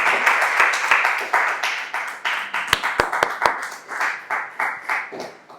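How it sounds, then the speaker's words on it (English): Audience applause for a speaker at an impromptu speaking session, a modest group clapping with a few loud sharp claps standing out, then settling into rhythmic, pulsing clapping that continues to the end. "Give her a round of applause"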